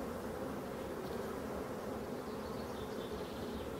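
A wild forest bee swarm buzzes in a dense, steady drone, close and continuous with no pauses, filling the whole stretch without any voices.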